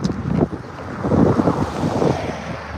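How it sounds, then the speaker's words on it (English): Strong wind roars and buffets the microphone in a continuous low rumble, with no one speaking. "Oh, that wind."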